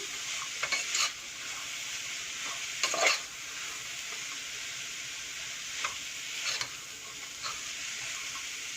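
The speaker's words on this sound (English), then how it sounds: "Let it fry, let it fry for 2 minutes." Pulao ingredients with Brussels sprouts and black chana fry in a single pot, giving a constant gentle sizzle punctuated by several spoon scrapes and stirring clatters, close and without voices.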